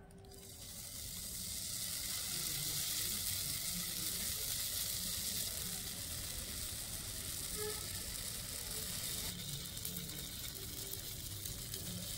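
Spicy jali pitha frying in hot oil, a loud steady sizzle that swells in the first seconds and holds throughout, with no voices.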